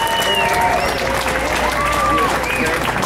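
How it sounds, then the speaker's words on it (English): Crowd at an outdoor Friday Night Live event in Waukesha applauding themselves, continuous clapping with cheering voices and chatter mixed in, fairly loud and sustained. "Let's give yourself a round of applause"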